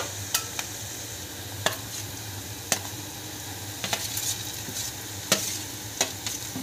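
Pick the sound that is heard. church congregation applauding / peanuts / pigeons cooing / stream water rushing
peanuts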